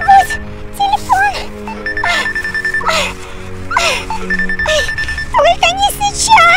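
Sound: telephone ringing in a Siren Head video game

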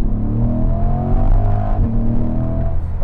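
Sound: C8 Corvette engine accelerating

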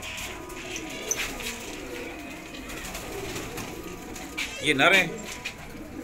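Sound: rare breed pigeons cooing

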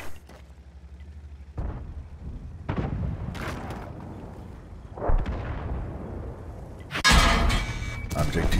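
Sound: tank gunfire in the video game World of Tanks

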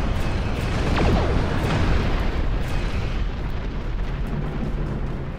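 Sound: spaceship exploding in Star Trek Online video game

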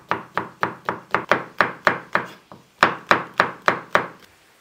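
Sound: finely chopping green peppers with a knife

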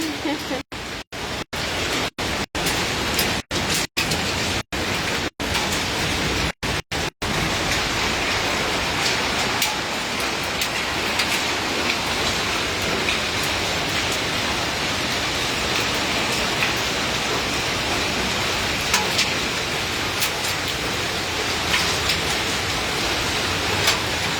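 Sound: hail falling

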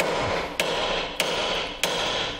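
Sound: hammering on a Ford Transit Connect during clutch replacement

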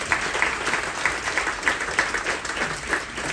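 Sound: audience applause for the Space Force

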